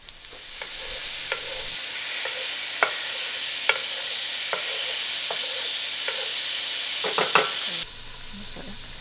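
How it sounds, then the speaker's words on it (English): A stick of butter melts in a hot pan with a continuous bright sizzle, punctuated by occasional sharp clicks and taps from a utensil stirring it. "So first I'm gonna add in 1 stick of butter, and we're just gonna let that melt."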